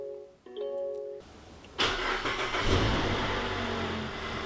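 A Mazda car engine starting: a few electronic chimes, then the starter cranks and the engine catches, settling into a steady close idle rumble.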